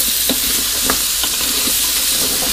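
Chicken, carrots, potatoes and bacon fry loudly in a pan, with a steady close sizzle broken by scraping stirring strokes throughout.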